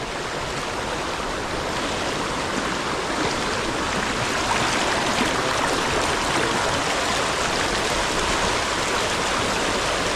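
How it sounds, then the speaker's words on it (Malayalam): Strong river current rushing in Kuttanad, Kerala, forceful enough to pull at a wader's legs; a steady, loud broadband wash of water close by, continuous for the whole stretch with no voices. "അത് ശക്തിയായ ഒഴുക്ക"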